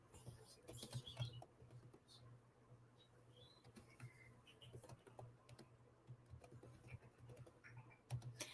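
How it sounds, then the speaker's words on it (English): Quick, irregular clicks of typing on a computer keyboard pass in soft bursts, faint and close over a low steady hum. "I was typing and forgot to talk."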